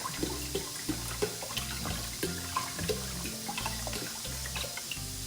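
Liquid pours and splashes into a soup pot in short gurgling bursts, close by, with faint clinks between pours and no talking.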